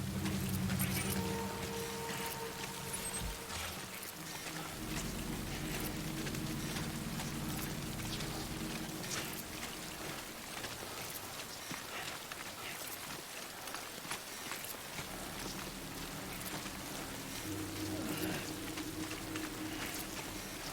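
Steady rain hisses and patters across a game world in Death Stranding, a continuous wash of dense droplets with low rumbling ambience underneath, holding even and fairly loud throughout with no talking.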